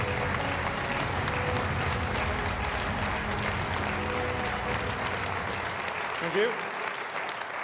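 A crowd at a Conservative Party manifesto launch gives sustained, dense applause with some background murmur, then fades as someone briefly says thanks.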